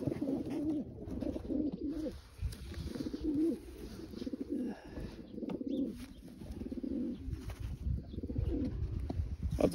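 Janssen racing pigeons coo steadily in low, throaty rolling calls, several birds overlapping close by with a continuous murmuring rhythm.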